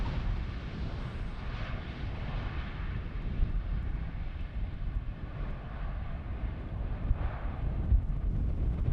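Airliner arriving on runway 18R, the Polderbaan, at Amsterdam Schiphol in a crosswind, passing at relatively high speed: a steady broadband jet roar with wind buffeting, continuous and fairly loud throughout.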